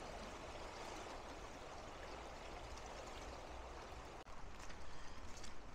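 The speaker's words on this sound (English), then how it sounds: "You can just really see how high the river is itself with the width going all the way across." A river swollen high and running the full width of its channel rushes steadily at moderate distance, a constant dense roar of water, with no voices over it.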